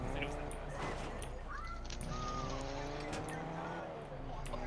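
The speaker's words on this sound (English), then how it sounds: "I hear a car." A car engine in the video game Fortnite roars and whines, with people talking over it.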